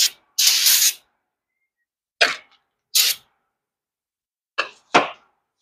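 Brake cleaner sprayed onto a brake rotor during front pad and rotor work on a 2006 Chevrolet Colorado: sharp, close hissing bursts, one long spray and then several short blasts separated by silence.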